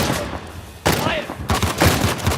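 Rapid bursts of gunfire crack and rattle close by in Uncharted: The Lost Legacy, with a short lull before a second, denser volley of shots.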